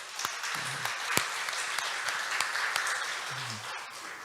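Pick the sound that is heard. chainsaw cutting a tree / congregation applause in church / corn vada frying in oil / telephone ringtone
congregation applause in church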